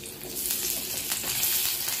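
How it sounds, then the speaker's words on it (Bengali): Chopped onion frying in a small amount of oil, a steady broadband sizzle that holds fairly even and close throughout, with no talk over it. "একটুখানি ফ্রাই করে নেবো জাস্ট।"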